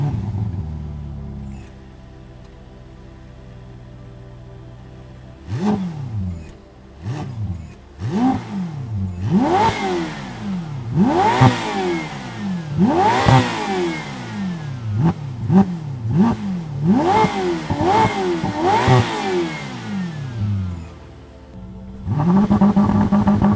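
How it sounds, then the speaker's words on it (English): A 2020 Ferrari F8 Tributo starts, idles briefly, then gives a string of sharp, loud revs that rise and fall in quick succession before settling back to a steady idle, with no talk. "now we're gonna go get some startup and rev clips of the F8 Tributo"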